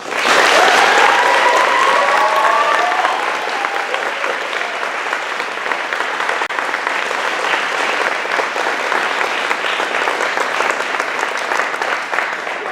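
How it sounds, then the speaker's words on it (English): Applause at an NCCC induction ceremony for the region staff, starting with loud clapping and cheers, then settling into a long steady crowd clap that stays strong for over twelve seconds. "let's give these folks a quick round of applause"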